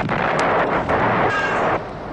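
A loud, broad boom of an artillery gun firing, with rumbling blast noise that lingers and then drops off abruptly, close and powerful.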